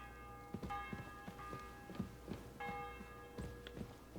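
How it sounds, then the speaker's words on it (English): A church bell tolls in the game Kingdom Come: Deliverance 2, its strokes repeating at a slow, even rhythm over a faint background hum, with no talking. "The bell's ringing for Hans the 5th time."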